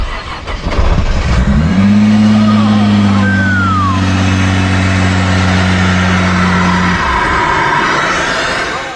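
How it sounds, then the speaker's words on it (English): A 2018 Nissan GT-R engine cranks and fires up, then settles into a loud, steady idle with a brief rev partway through, close and dominant for several seconds before tapering at the end. "He hits the start button, and the engine finally roars to life."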